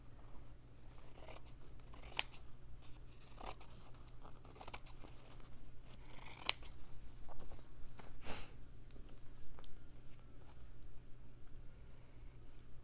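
Scissors snip around an embossed fabric snowflake in a few quiet, separate cuts against a soft, hushed background, heard close up with no talking.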